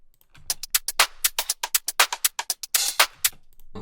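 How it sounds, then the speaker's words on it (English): Busy electronic percussion loop in a house-style drum arrangement, a rapid run of crisp clicks and taps in a steady syncopated rhythm, loud and close with no voices. "Last 2 things I added was a percussion loop, which sounds like this"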